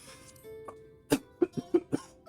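A person gives a quick run of about five dry coughs, close and moderately loud, with a faint steady background tone beneath and no talking.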